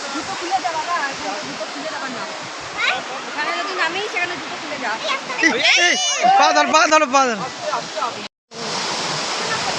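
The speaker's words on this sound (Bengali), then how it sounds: "ঝর্ণাটা দেখো মিশছে এইখানে গিয়ে, তুর্গা ফলস।" Turga Falls in Purulia, water pouring down from the hilltop, gives a steady broadband rush throughout, with people talking over it, then briefly cuts out near the end before the roar returns.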